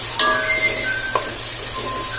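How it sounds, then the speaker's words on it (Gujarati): Sizzling from a hot pan as garam masala is stirred into frying curry, a few scraping stirs of a utensil, steady and close, with no voices. "આ બધું એડ કરી અને ફરી પાછું એને મિક્સ કરી અને હલાવી લેશું"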